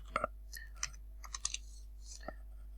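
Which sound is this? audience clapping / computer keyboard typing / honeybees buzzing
computer keyboard typing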